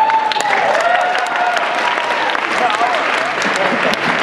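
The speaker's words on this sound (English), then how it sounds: "You don't have to applaud every answer, it's okay." A convention panel crowd at PAX East claps loudly and continuously for a few seconds, a dense wash of hands with a few voices and calls rising over it.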